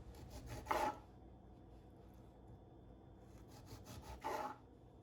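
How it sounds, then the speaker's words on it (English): A lemon rubbed against a cheese grater for zest, two short separate rasping strokes, close but quiet, with near silence between them and no speech. "So we're just gonna want to zest our lemon"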